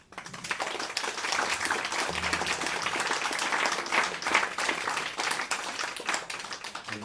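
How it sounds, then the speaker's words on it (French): A seated audience at a reading event in a Red Cross museum gives steady, moderately loud applause throughout, a dense even patter of many hands with no break. "On peut l'applaudir."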